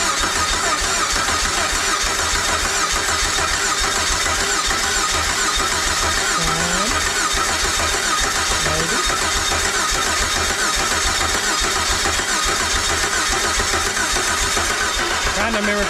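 A used engine on a test stand being cranked over repeatedly without catching, a continuous loud rhythmic starter churn with someone talking over it now and then.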